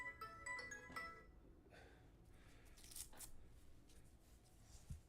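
A phone ringtone sounds in a quiet room with a few short electronic bursts at the start, then faint clicks and rustles follow.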